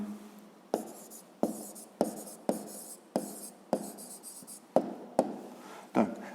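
Pen or pencil writing a math answer by hand on paper, close and clear, in a series of about ten short scratchy strokes with brief pauses between them, no voices.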